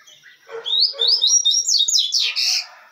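A caged papa-capim seedeater sings a quick run of bright, high chirps and trills, close and clear over near silence, with no voices.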